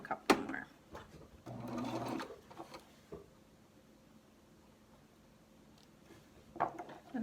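Short bursts of a sewing machine stitching and backstitching a face mask come as quick mechanical runs separated by quiet pauses, fairly close but soft.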